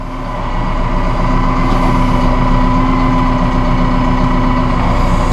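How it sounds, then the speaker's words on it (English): A tractor engine runs loud and steady as it moves forward, a constant low drone with a firm mid-range hum and no voices. "Now we just need to move the tractor forward."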